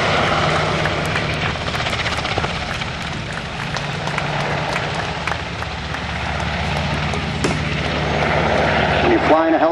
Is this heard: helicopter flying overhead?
yes